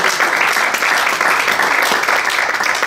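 Church congregation applauding during a sermon, a dense, loud, continuous wash of many hands clapping together without a break.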